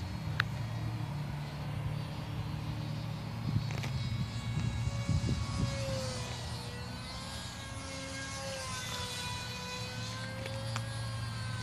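Electric motor of a Hobbyking Mini Breeze RC glider running at full throttle in flight, a steady whining buzz with a faint tonal line held throughout over a constant airy background.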